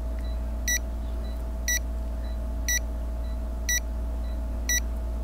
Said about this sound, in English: it will stop beeping as soon as we get back